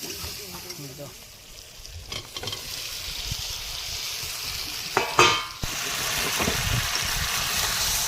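Chicken hits cooked masala for biryani in a pot on a riverside stove, and a loud, steady sizzle and fry builds as it is stirred, with voices chatting over it.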